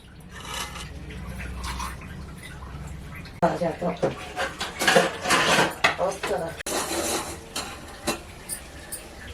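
A cooking bowl is rinsed and washed in a home kitchen, with clattering vessel knocks, scraping and splashing water coming in irregular bursts. A voice talks over the washing throughout.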